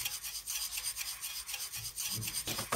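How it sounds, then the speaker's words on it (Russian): Sugar shaken inside a jar, used as a snare sound in a kettle-and-pot beat, makes a dry, gritty rasping that pulses in even bursts throughout, close and fairly loud, with no voices. "звук сахара в банке отлично подходит на роль снейра."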